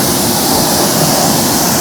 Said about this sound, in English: I'm gonna go ahead and rinse this off now.